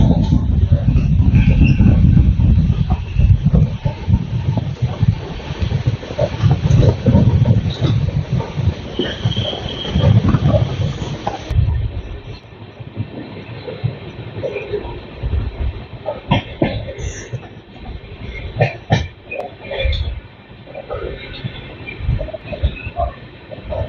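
Rajgir Intercity Express train pulling out of Harnaut railway station, heavy low rumbling and wheel clatter that eases after the first half into lighter rattles and clanks, with voices speaking over it.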